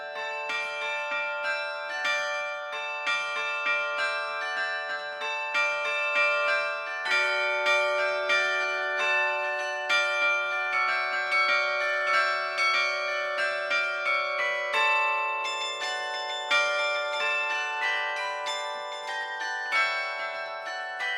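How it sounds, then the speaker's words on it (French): Carillon church bells ring out a continuous melodic Christmas peal in the Tarn, France, overlapping tones chiming in rhythm for a long stretch, loud and clear with no voices. "Le nadalet qui consiste en des sonneries de cloches et des concerts que l'on donne au moment de Noël"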